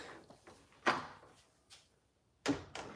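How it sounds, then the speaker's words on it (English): Doors in a home kitchen are shut during dinner preparation, giving a few soft, separate knocks and thuds spaced over a quiet room. "Have to make sure these doors are shut."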